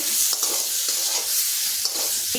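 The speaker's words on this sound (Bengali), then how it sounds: "এখন আমটা নেড়ে নেবো" Mango pieces frying in a pan for amjhol, stirred with a utensil: a bright, continuous sizzle with several scraping strokes and light knocks against the pan, close and steady throughout.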